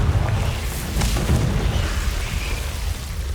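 Fiery Confringo spell blasts in the Hogwarts Legacy video game, a run of booming bursts and crackles over a rumbling low roar that stays steady and fairly loud throughout.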